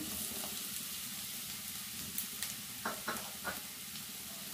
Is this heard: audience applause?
no